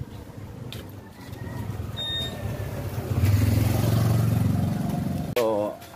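A new Honda ADV150 motor scooter engine idles and revs up, a nearby mid-pitched hum that swells louder partway through, with people talking over it.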